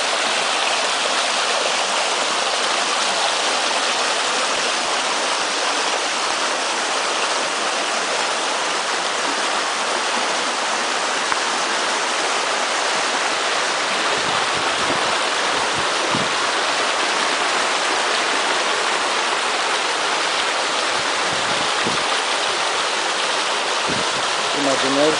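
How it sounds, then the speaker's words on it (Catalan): Water from the Font del Bolomor spring rushes continuously in a loud, steady flow like a stream or small cascade, with faint low thumps near the end. "Fixeu-vos que xulo està el ruïdo de l'aigua."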